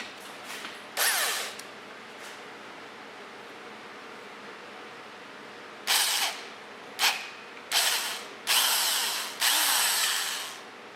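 Power drill boring a hole for a Helicoil thread insert in a plug hole: one short burst, a pause, then several quick bursts in a row, close and loud, with a ratcheting whine between them.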